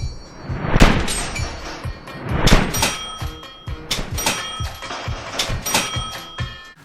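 Cash register dings and drawer clatters layered over an AK rifle firing in a film scene, a rhythmic series of sharp metallic rings and clunks recurring roughly every second or so.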